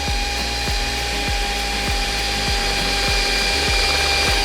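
An electric mixer beats red velvet roll cake batter toward a thick ribbon stage, a steady loud motor whir with a thin high whine and regular low knocking pulses of the beaters running throughout.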